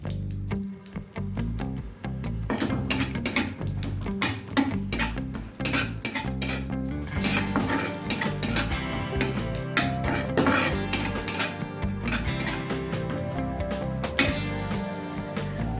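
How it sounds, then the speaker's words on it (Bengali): Cashews frying in ghee in a pan, a continuous sizzle under frequent clanking of a metal spoon against the pot. "ঘিটা দেবার পর প্রথমে আমি কাজুটাকে ভেজে নেব"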